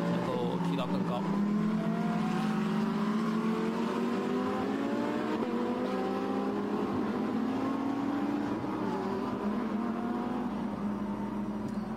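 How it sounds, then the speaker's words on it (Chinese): GT3 race cars run a track during a GT3 race, engines droning steadily and shifting in pitch as they pass, with a commentator talking over the sound throughout. "现在我们看到前面打头的这台赛车"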